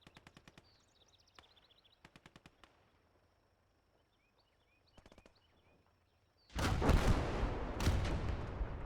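A 20 mm flak gun in the World War II game Gates of Hell, firing in short rapid bursts, faint and distant at first, then loud close heavy blasts and impacts in the final seconds.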